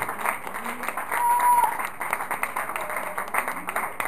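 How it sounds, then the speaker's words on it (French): A crowd claps together in dense, sustained applause, heard from within the audience with no talking. "applaudissez."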